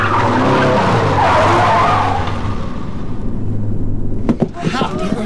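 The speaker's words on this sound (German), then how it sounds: "Das Auto kam ins Schleudern." Car skidding with squealing tires in a German radio play from 1974, a long loud screech holding for about three seconds, then tapering off into scattered knocks and a short burst of rougher tire noise near the end.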